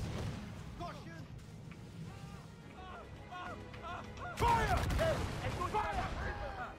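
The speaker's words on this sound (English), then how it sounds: "Mortars are probably the best. Fire." Ship-mounted mortars firing in the Assassin's Creed Freedom Cry naval combat game, a heavy broadband blast about midway rising over ongoing battle noise, with voices and other tonal sounds throughout.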